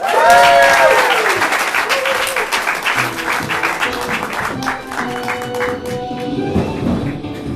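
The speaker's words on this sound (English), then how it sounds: "Clap your hands" Studio audience applause on a morning TV weather show, loud at the start and easing into steady sustained clapping with some crowd noise for several seconds.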